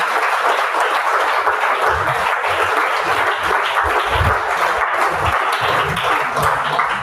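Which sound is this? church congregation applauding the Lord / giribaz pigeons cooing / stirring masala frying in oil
church congregation applauding the Lord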